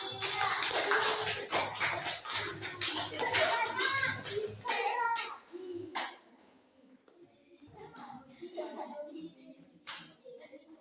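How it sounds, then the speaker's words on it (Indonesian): Children in an Indonesian classroom clap for a classmate named Randy, a brief burst of scattered, uneven claps mixed with young voices and shuffling, fading after a few seconds into quieter murmuring and a few stray taps. "Tepuk tangan untuk Mas Randy"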